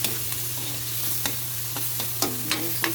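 Tomatoes and onions are stirred and fried in a pan for a vegetable sauté, with a steady sizzle and a few sharp spatula scrapes close by.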